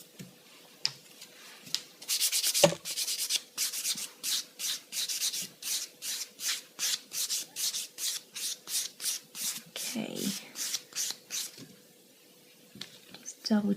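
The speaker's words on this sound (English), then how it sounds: "And then we're going to go down to what we call our sanding block." Rhythmic strokes of a nail sanding block rubbing across acrylic almond stiletto nails, close and steady, repeating about twice a second with a brief pause before resuming.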